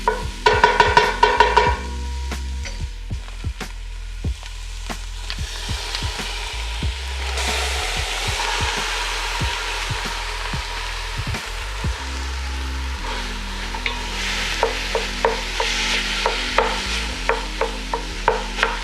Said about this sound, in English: I will add the turkey to the pot.